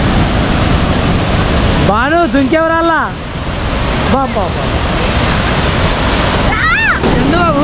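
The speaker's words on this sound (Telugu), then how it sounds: "అబ్బా ఏంది వాటర్ ఫాల్ ఇంత పెద్దది" Large waterfall in Kerala, on the way from Munnar to Kochi, roaring as a steady broadband rush of falling water throughout, with people talking and calling out over it in places.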